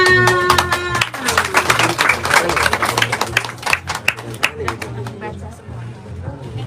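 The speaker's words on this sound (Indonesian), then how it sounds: "Tepuk tangan" Audience clapping at a book handout for children in a remote Papuan community, steady claps sounding together with talking voices and low background tones throughout.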